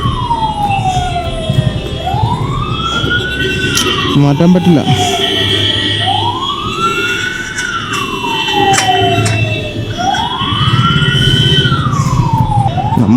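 An ambulance siren wails in repeated rising and falling sweeps behind a vehicle in Bangalore evening traffic, loud and close, over engine rumble while someone speaks briefly.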